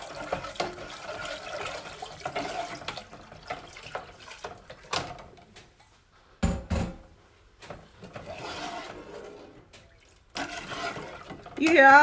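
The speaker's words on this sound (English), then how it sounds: "You hear all that sugar on the bottom." Gritty scraping and swirling in a pot as sugar granules on the bottom are stirred for candied yams, intermittent scrapes with pauses, close and moderately quiet.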